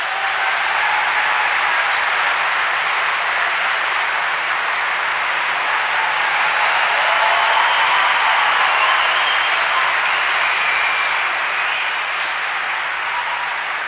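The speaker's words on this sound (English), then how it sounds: "Please give him and his father, the director, a very warm round of applause." A large audience at a film festival opening ceremony applauds warmly. The clapping is a dense, even roar that holds steady for about fourteen seconds, with no speech over it.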